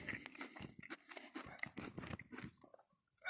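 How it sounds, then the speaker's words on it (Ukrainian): Close, crisp crunching of a sweet apple being bitten and chewed, a rapid run of juicy crackles that fades into quiet. "Ви навіть чуєте, як він хрумтить"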